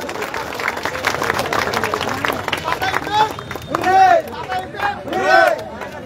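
Crowd at a DYFI state football tournament final clapping for the man of the match, a dense steady wash of applause with cheers and voices rising through it in a few louder swells.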